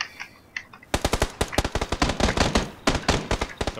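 Gunfire in the video game PUBG: after a few faint distant shots, a loud close burst of rapid automatic fire cracks repeatedly, with short pauses between volleys.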